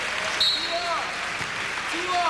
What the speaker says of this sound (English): Sure get a well-deserved round of applause right there.